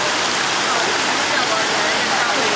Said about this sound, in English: You see down here is where the waterfall drops off.